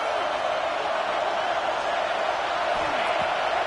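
Football stadium crowd roaring behind the defense during a red-zone stand, a dense, sustained wall of cheering and noise that holds level throughout, with no distinct voices standing out.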